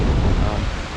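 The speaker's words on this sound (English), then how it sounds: "you can hear because of the waterfall in the background" Waterfall at Dove Stone in the Peak District, a steady, loud broadband rush of falling water that fills the whole moment without a break.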